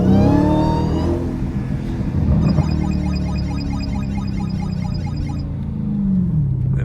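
A Dodge Hellcat on sticky tires revs hard and accelerates, with its engine note rising through loud, close gear pulls. The tone sweeps up and down and a high whine runs over the engine roar.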